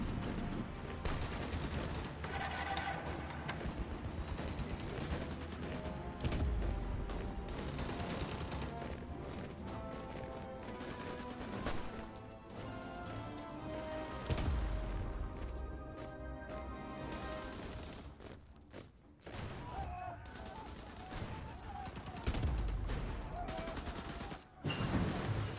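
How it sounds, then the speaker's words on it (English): Game battle noise from Hearts of Iron IV as motorized rocket artillery fires, a long, thick wash of booms, crashes and rapid volleys under layered music-like tones, steady and loud throughout with a few sharper hits. "That's a lot of motorized rocket artillery firing into this."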